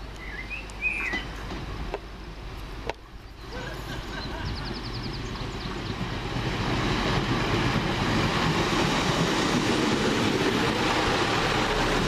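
An old EMT diesel train pulls out of the loop at a station near Hazel Grove, its rumble growing steadily louder as it approaches, with a few birds chirping in the background.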